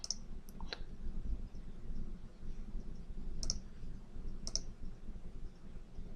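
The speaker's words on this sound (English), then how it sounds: "if you use that ID, then you can come in here and just click on the sort" Mouse clicks while sorting an MS Access database query: a handful of sharp, isolated clicks at irregular intervals over faint room hiss, quiet and close.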